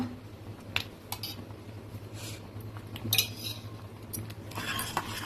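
Spoon scraping and clinking against a pan while halwa is mixed with two or three spoons of ghee, a steady low hum underneath and a few sharper metallic taps near the middle and end.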